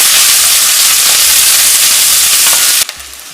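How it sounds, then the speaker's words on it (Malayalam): Chopped onion sautés in refined oil in a pan for a butter chicken base, giving a loud, steady sizzle and hiss that cuts off abruptly near the end, leaving a faint quiet tail. "അതിലേക്ക് നമ്മൾ ഒരു സവോള അരിഞ്ഞത് ഒന്ന് ഇട്ട് വഴറ്റിയെടുക്കണം."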